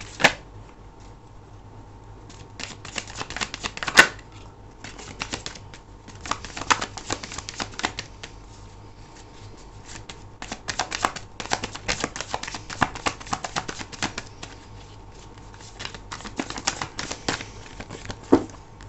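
Tarot cards being shuffled, drawn and laid out on a table, giving soft crisp riffles, flicks and papery slaps in irregular bursts, close and fairly quiet, with no talking.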